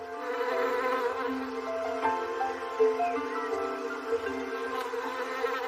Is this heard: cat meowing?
no